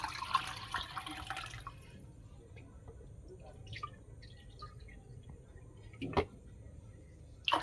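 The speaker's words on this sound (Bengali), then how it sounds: "আমি এখানে আড়াই বাটি জল দিয়ে দিলাম" Water is poured into a cooking pot of khichuri, with a short rushing splash at the start, then quiet drips and a couple of sharp clinks.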